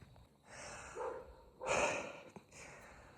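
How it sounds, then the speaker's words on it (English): Heavy, labored breaths close to the mic, a few slow inhales and exhales rising and falling, the strongest one in the middle, with no speech. "Sorry for the heavy breathing."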